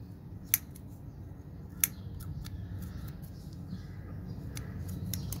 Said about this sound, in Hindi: ये कलम को हमने थोड़ा सही काट लेना है